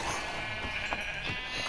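A single sheep bleats in Minecraft gameplay, a short wavering cry heard clearly over a constant hissy game background.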